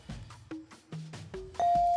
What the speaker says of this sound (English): that's the bell ending the round